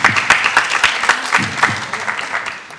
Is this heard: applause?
yes